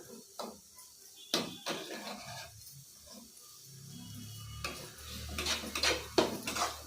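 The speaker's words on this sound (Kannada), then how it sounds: "ಈಗ ನಾವು ಚೆನ್ನಾಗಿ ಹುರ್ಕೊಬೇಕು ತುಪ್ಪದಲ್ಲೇ ಇದನ್ನ" A spoon scrapes and clanks against a pan while grated carrot fries in ghee for carrot halwa, with irregular stirring knocks and a soft sizzle underneath.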